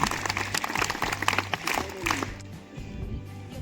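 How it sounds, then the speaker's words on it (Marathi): Brief burst of applause from a group of schoolchildren at a school quiz competition, rapid claps fading after a couple of seconds while voices carry on in the room. "उत्तर बरोबर आहे, टाळ्या वाजवून जाऊ द्या."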